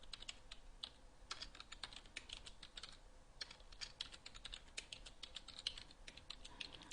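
Rapid, irregular clicking of keys as code is typed on a computer keyboard, fairly quiet and close, with short pauses between bursts and no voices.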